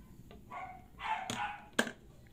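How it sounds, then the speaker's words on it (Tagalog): A dog lets out a few short, sharp barks, spaced about half a second apart, fairly close but not loud, against a quiet background with no talking. "Tapos kumakahol yung aso."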